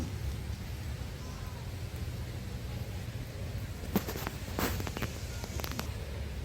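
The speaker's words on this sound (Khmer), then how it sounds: "ភ្លៀងរហូតតាំងពីម៉ោង5ជាងភ្លៀងរហូត" Steady rain falls at a temple during Visakha Bucha preparations, a faint continuous hiss with low rumbling and a few brief knocks or footsteps near the end.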